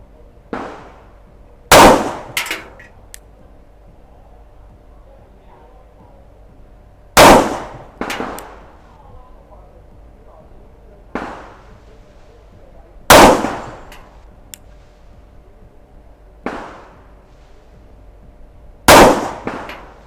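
SIG P365 pistol fired at a range, sharp loud cracks spaced several seconds apart, some followed closely by a second report or clatter, with ringing decay between shots.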